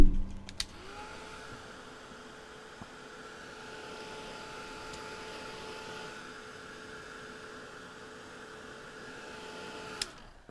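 A hair dryer blows steadily on fresh paint for a painted holiday card, a continuous whirring airflow held at even loudness for about ten seconds, switched on and off with brief clicks at each end.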